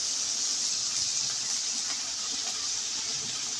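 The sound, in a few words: onions sizzling as they are added to hot oil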